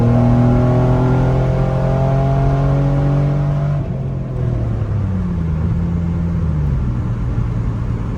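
A 2003 Mitsubishi Eclipse GTS with a possible head gasket issue revving at full throttle, a loud sluggish engine drone climbing steadily, then a brief dip near four seconds and a rougher, lower rumble afterward.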